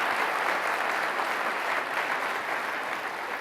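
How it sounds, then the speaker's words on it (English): Steady, moderately distant applause from a keynote audience at a cloud technology summit fills the whole stretch, an even wash of many hands clapping with no talk over it. "let's give them one more round of applause"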